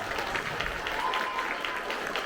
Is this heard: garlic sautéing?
no